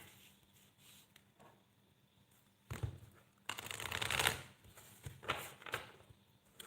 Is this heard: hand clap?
no